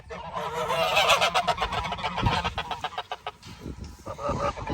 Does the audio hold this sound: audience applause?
no